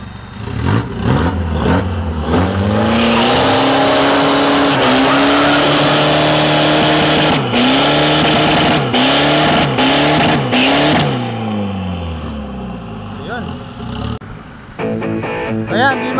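Modified twin-turbo diesel pickup trucks race at an elite event in the Philippines, with loud, sustained engine roar and rising, falling revs through gear changes, then tire squeal, and a sudden drop near the end.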